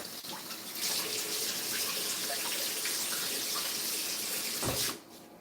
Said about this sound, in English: just rinse out our bok choy